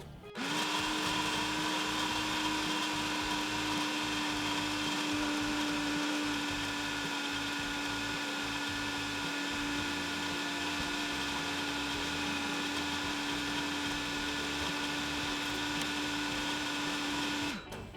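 A food processor grinds peanuts into peanut butter with a loud, continuous motor whir and a steady hum, running unbroken for nearly the whole stretch before stopping.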